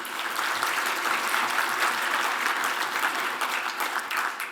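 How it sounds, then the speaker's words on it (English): Audience applause fills a hall at a South Florida Muslim organizations' gathering, steady, dense clapping sustained evenly for several seconds without any talk over it. "Please give yourselves a round of applause"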